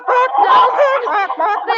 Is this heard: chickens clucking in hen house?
yes